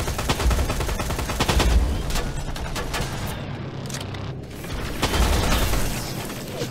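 Gunfire in the shooter game Terminator Resistance, dense continuous bursts of shots and mechanical clatter, loud and close with a brief dip in the middle and no talk.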